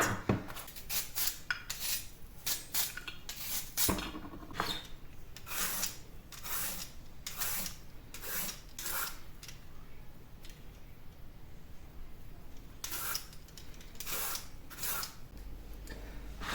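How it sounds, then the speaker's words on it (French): Carrots and zucchini rubbed over a grater make a series of rhythmic rasping strokes in bursts, close but fairly quiet, with short pauses between runs. "Donc je vais râper les carottes et la courgette."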